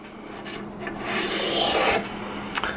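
Threaded metal nut being unscrewed from the forend of an Adler A110 lever-action shotgun, a close gritty rasping scrape rising and fading, followed by a couple of small clicks, with no talking.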